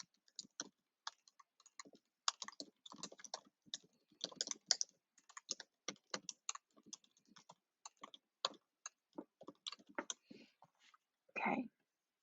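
Keys on a computer keyboard are typed in short irregular bursts of soft clicks, close and quiet, with a brief low murmur near the end.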